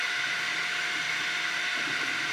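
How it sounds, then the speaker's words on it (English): A 3D printer preheating gives off a steady, loud fan-like whir with a faint tonal hum, unbroken for the whole stretch. "oh, my printer's just preheating now."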